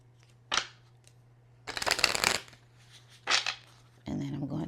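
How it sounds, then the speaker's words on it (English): Tarot cards shuffled by hand in three or four short, crisp riffling bursts, one longer than the rest, over a steady low hum, with a voice speaking briefly at the end. "So I'm gonna shuffle these one more time. One more good shuffle."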